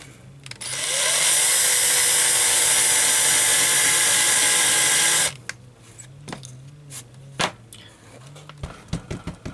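Small drill boring into the rivet posts of a die-cast Matchbox Y-14 Duke of Connaught model chassis, a loud steady whine for about five seconds, then quieter scraping, clicks and brief bursts of handling noise.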